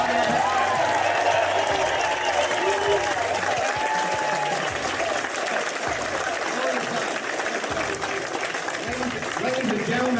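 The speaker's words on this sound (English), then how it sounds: "Everybody, give this young guy a round of applause." A crowd applauds a young boy at a political rally, the clapping sustained and loud through the whole stretch, with cheers and shouted voices mixed into it.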